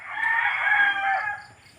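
A chicken crows nearby in a garden, one clear crow lasting well over a second before tailing off.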